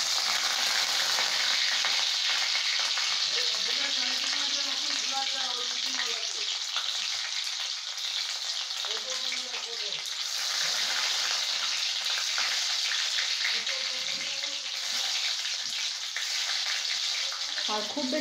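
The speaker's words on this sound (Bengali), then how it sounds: "মা এবার তেলের মধ্যে দিয়ে দিচ্ছে রসুন কুচি।" Chopped garlic hits hot oil for chili chicken and fries with a loud, continuous sizzle and crackle, close up and steady throughout, with soft stirring underneath.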